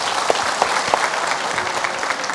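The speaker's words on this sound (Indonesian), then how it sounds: "Tepuk tangan" Studio audience applauding at an Islamic talk show, a steady burst of many hands clapping together at close range.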